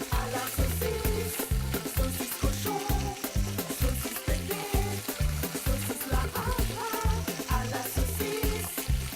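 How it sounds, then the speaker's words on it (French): Meat for a Creole cassoulet sizzles skin side down in oil in a pot, a steady frying crackle heard up close over a loud rhythmic music beat. "Dans un premier temps, vous faites cuire côté peau, comme ça, ça va plus dégraisser la viande et ça va moins coller au fond de la marmite."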